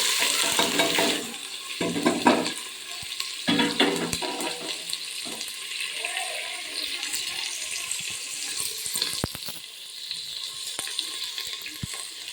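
Onion, curry leaves and black peppercorns fry in a pan for a cluster bean and black-eyed pea stir-fry, giving a steady close sizzle with bursts of stirring near the start, then settling into a softer hiss.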